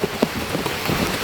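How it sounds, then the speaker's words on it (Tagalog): Rain falls steadily outdoors on a farm plot, a soft continuous patter with a few sharper drop hits, brief and close by. "Kahit tayo, tamaan na pala ng ulan."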